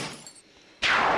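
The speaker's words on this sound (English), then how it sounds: "So you're hearing a bunch of shattering because there's a whole bunch of" In the Blindfold Invaders mobile game, hit aliens give off a sudden bright shattering burst after a fainter stretch of sound, loud and close.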